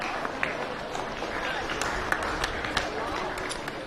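A crowd at a county fair swine show claps steadily, the applause dense and even throughout, with a voice faintly mixed in.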